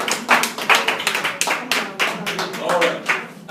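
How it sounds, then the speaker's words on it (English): A small audience claps for itself at a community program, close and uneven bursts of hand claps with distinct individual slaps rising and falling over a few seconds. "can we give yourself a big applause?"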